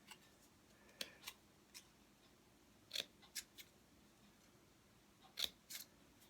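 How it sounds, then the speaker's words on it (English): Scissors snip through card stock while a handmade birthday card is trimmed. Several crisp, close cuts come at irregular intervals, some in quick pairs, over a quiet background with no speech. "I'm going to go back and cut this a little bit better"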